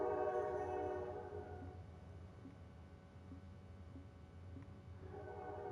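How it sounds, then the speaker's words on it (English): A train rolls past at a distance, a low sustained rumble with a horn-like tonal blare fading early and faint rhythmic clicks of wheels on rails throughout. "Oh, there's a train passing."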